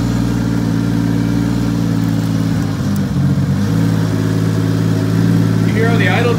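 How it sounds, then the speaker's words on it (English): A car engine idles steadily and loudly up close after an adjustment to its filter, the low, even idle running throughout with a slight unevenness in the middle. "I just moved the filter and it changed the entire way this car idled."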